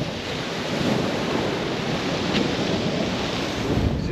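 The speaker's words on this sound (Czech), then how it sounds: "našeho rezortu, kde jsou vlny." Sea waves wash continuously onto a resort beach on Brač island near Supetar, Croatia, a steady broadband roar of surf mixed with strong wind buffeting the microphone, with no voices.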